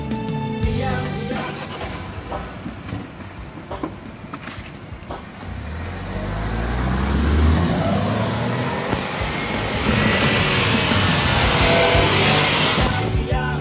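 A Ford Fiesta EcoBoost 1.0 L turbocharged engine revs and builds in a steady roar, rising in pitch as it accelerates, loud and close with road and wind noise.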